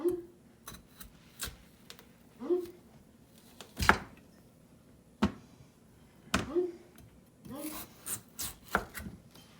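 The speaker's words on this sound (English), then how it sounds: "Now I'm going to be cutting my potatoes into chunks, that way they boil faster." A knife chops potatoes into chunks on a cutting board, with sharp, irregular thuds spaced a second or two apart and soft scraping between them, close and quiet.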